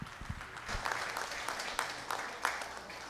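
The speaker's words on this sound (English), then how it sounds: "Give her a nice round of applause for her and the two right ahead of her as well." Scattered audience applause at a junior beef cattle expo, uneven clapping from a crowd in a large show arena with some low thumps and muffled voices underneath.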